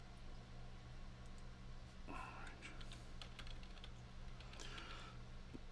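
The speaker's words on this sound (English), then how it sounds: "All right, so I was typing stuff out." Someone types on a computer keyboard, soft irregular key clicks that come in bursts over a few seconds against a low, steady room hum, with faint murmuring in the background.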